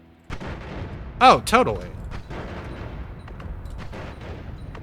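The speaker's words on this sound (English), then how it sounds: "It's just triggering several explosions over the course of a little while." A spell in the Noita video game sets off several explosions, a sharp burst followed by a chain of rumbling blasts and crackles, heard under a brief spoken exclamation.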